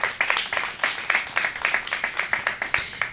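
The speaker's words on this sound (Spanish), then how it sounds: "Vamos a dar un aplauso a nuestro Elohim, Yahshua HaMashiach" A congregation claps in a steady, rhythmic unison beat at a brisk tempo, every clap crisp and evenly spaced, with no voices over it.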